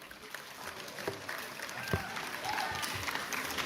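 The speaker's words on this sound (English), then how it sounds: "A big round of applause for yourself too." Audience applause at a university welcome event, a dense patter of clapping heard somewhat distant and moderately faint, holding steady throughout over crowd murmur.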